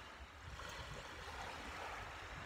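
Ocean waves wash steadily as a broad, continuous rush of surf with gentle swells in loudness, no voices present.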